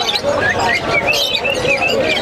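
Tame birds for sale at the Mirpur 1 bird market repeat sharp, rising chirps in a quick rhythm, close and clear over a bed of crowd murmur.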